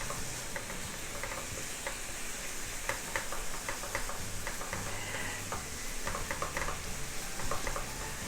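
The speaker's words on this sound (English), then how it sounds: "Give it a good mix." Meat sauce with onions and garlic is stirred in a hot pan: continuous close sizzling with repeated scraping, clicking spoon strokes.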